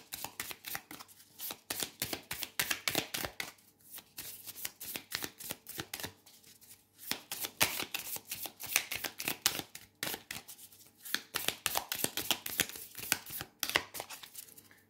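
Little Cryptid oracle cards being shuffled by hand, a steady run of quick, close riffling card flicks in several bursts with short pauses, no talking.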